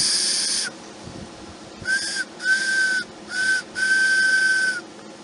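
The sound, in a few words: homemade wooden whistle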